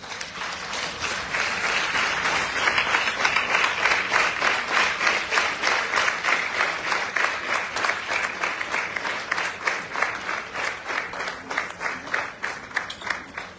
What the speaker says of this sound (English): Can we please stand and then keep a clap when she comes on stage?